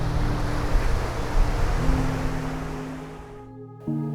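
Ocean surf rolls and washes in a broad, continuous roar that gradually fades, then cuts out briefly near the end before a low hum returns.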